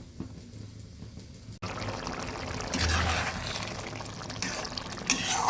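Katla fish curry boiling in a pan, a steady bubbling hiss that starts low and swells after a brief gap, close and moderately loud with a few sharper pops near the end.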